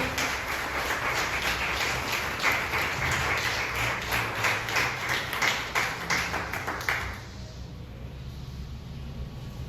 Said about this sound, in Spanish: Yo sé que usted le da un aplauso a Dios.